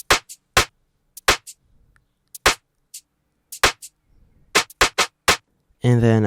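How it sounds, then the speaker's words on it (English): Two shaker samples layered with a snare in a beat-battle production, playing sparse, sharp percussive hits in an irregular pattern, close and dry, ending on a brief buzzy tonal burst. "Then after that I added these two shakers"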